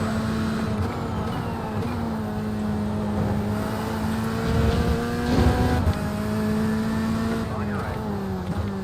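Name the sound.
race car engine hitting the rev limiter in a racing game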